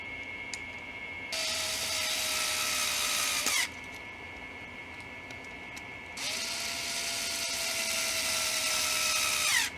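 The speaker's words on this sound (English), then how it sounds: "Now grab two tapping screws, pop them into these holes down here." Tapping screws driven into the scope mount of a Brick Blaster AAP-01 toy blaster with a small power driver, two separate high whining bursts of several seconds each that end with a slight drop in pitch.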